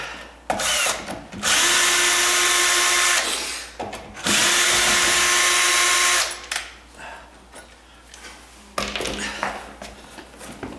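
A power drill backs out a screw from a door strike plate in two long whirring bursts with shorter spurts between them. The sound is close and loud, and there is no talking.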